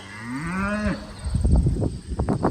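A cow gives one loud, close, drawn-out moo on a farm, followed by rustling and shuffling bumps, with no talking.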